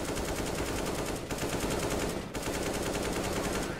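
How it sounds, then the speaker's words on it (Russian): An AK-47 Kalashnikov rifle fires in a video game, loud rapid automatic bursts in a continuous rattle with two brief pauses. "Вот это стрельба с 47-го автомата Калашникова АК-47 по пенису."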